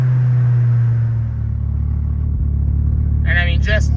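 A Nissan D21 engine idles steadily after a timing adjustment, with a low, even rumble running underneath throughout, and someone speaks briefly near the end.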